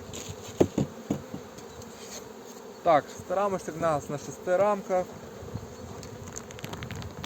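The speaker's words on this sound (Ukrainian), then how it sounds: "От, бджоли, можете бачити, є багато." Honeybees in an open hive buzz steadily up close at a moderate level while someone talks over them in brief Ukrainian phrases.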